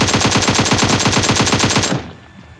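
Automatic gunfire from PUBG as a bot is shot: a loud, rapid burst of evenly spaced shots with no gaps, lasting about two seconds and then cutting off into quiet game ambience.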